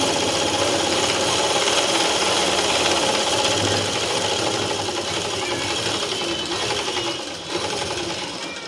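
An electric sewing machine runs steadily while stitching a boat neck top, a close, continuous mechanical whir that stays even throughout without any pause or talking.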